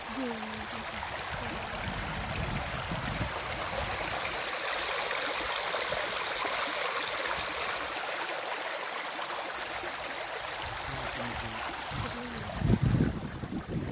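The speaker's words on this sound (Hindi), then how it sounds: "अभी नेचर का ना वाटर म्यूजिक सुन लीजिए, वाटर म्यूजिक, ये पानी का संगीत है" Steady, continuous rush of flowing stream water in the Jim Corbett landscape, with an even wash that stays level and fairly close throughout, plus a brief louder splash or knock near the end.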